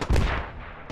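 Rocket and gunfire shots in the military shooter game Squad: one sharp, loud blast with a short booming tail, followed by a faint second crack, no talking.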